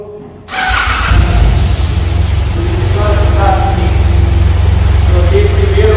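A BMW F800GS motorcycle idles in neutral after starting. The engine catches at about half a second, then holds a steady, loud, close rumble through the rest of the clip, with no talk over it.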